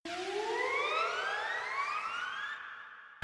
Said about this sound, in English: This sound is called Comet. It's like a sound effect more than anything.